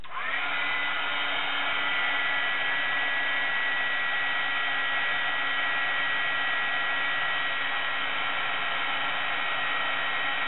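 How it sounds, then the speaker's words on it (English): A heat gun heats a brad for embossing, producing a loud, steady motorized whir and blowing hiss with a faint tonal hum that runs unbroken from start to finish. "you're going to heat this with the heat gun for about 30 seconds"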